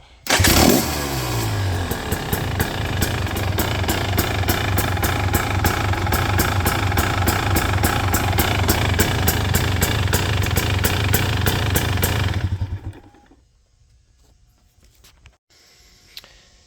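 A 2023 KTM 300 SX two-stroke dirt bike with low compression fires up and idles loudly with a rapid, raspy crackle for about twelve seconds, then cuts off to near silence.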